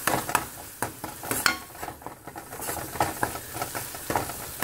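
Onion paste with crushed ginger and garlic fries in hot oil with a soft, continuous sizzle, broken by repeated scraping and clinking stirring strokes in the pan, close and fairly quiet.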